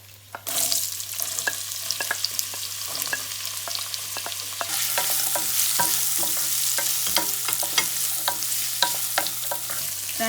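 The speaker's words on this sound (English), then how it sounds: "So I fry the onion about 5 to 7 minutes." Chopped onion frying in hot oil in a pan over medium heat for lamb mince and potato keema, giving a steady close sizzle broken by frequent scraping stirs and clicks of a utensil.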